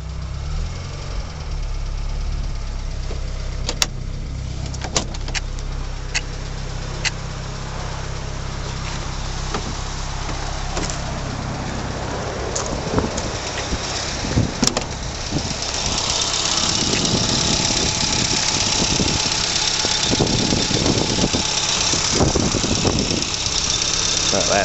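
A 1980 Mini 1000 automatic idles with a steady low-pitched engine hum and some knocking, joined later by clattering and rustling noises, while people talk intermittently nearby.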